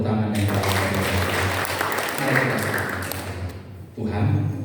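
A church congregation clapping during a Sunday service, a full, busy rush of applause with mixed voices and a low hum underneath, dropping out briefly near the end before the room sound returns.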